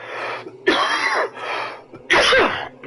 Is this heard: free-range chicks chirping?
no